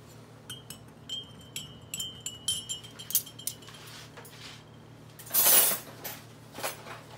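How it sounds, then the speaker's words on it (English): Spoons clinking among assorted cutlery at a cheap tea party setup, a quick irregular series of bright metallic chinks and taps, one louder clattering rattle near the end, close and without talk. "I have some different spoons."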